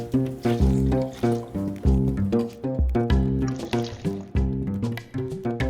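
Water pours into a pot to be heated for dal paniya, a run of splashy, gurgling pours and fills in uneven bursts at close range, with no talk over it.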